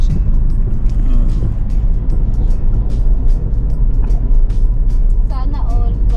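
Road traffic hums steadily with a low engine rumble and passing vehicles, loud and close throughout, while people talk over it.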